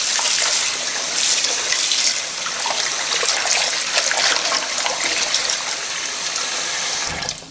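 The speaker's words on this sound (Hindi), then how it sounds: "इसमें जो है ठंडा वाटर डालना है, बिल्कुल भी जो है गर्म वाटर यूज़ नहीं करना। और इसको पानी से भर लेते हैं।" Cold tap water runs steadily into a bowl to wash fish for a fish curry, a close, continuous splashing stream that holds loud throughout and tapers off near the end, with no talking.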